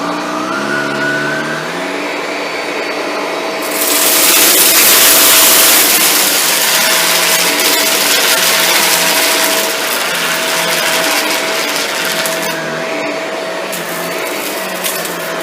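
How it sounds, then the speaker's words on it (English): A Shark Rotator Lift Away NV682 vacuum cleaner runs close and loud with a steady whining motor hum, surging into a harsher, brighter roar for several seconds while it works over debris, then settling back. "Sometimes you have to lift the vacuum up a bit on the backstroke to get the nozzle over top of some debris."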